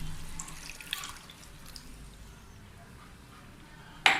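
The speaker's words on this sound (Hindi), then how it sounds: "ये हम 1 कप दूध डाल देंगे इसमें" A cup of milk being poured into a pan of carrot halwa, a quiet, steady liquid wash and trickle lasting several seconds, ending with a sharp knock.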